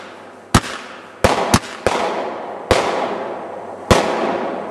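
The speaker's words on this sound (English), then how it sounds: "Like set off fireworks" Fireworks set off outdoors, six loud cracking bursts at uneven intervals, each trailing off into a ringing echo.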